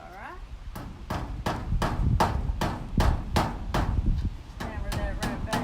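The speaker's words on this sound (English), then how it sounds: "Hammer that right back down in there like that." A hammer drives something back down with about a dozen loud, evenly spaced blows in a quick steady rhythm, with a voice talking briefly at times.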